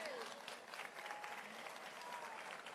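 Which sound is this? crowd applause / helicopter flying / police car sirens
crowd applause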